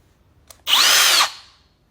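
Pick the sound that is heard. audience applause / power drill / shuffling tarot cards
power drill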